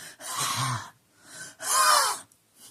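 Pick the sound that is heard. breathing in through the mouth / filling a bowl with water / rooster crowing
breathing in through the mouth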